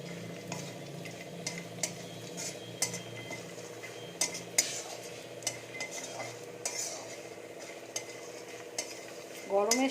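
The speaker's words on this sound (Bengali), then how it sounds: "এবার ওই একই তেলে আমি কিছু ডালের বড়ি ভেজে নেব।" Small homemade biulir dal bori, lentil dumplings, frying in oil in a home kitchen: faint steady sizzle under repeated sharp clinks and scrapes of a utensil stirring in the pan.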